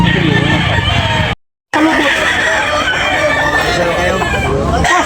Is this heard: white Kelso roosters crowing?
yes